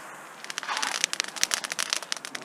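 A bonfire just lit on an allotment in December gives off irregular sharp crackles and pops, fairly close and steady, with no talk over it.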